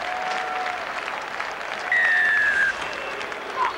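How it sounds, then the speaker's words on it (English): Muted applause from the Catalan Dragons rugby league crowd after a Wigan try, a steady, distant patter of clapping with a whistle-like tone rising briefly over it. "Mooted applause, and in fact boos for something from the Catalan Dragons crowd"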